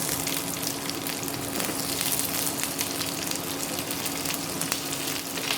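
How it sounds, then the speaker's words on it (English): Cubed onions stir-frying over a low flame in a pan with garlic, giving a steady, close sizzle with soft crackles and light stirring throughout, no voices. "we just add the onions and we stir fry it on low flame"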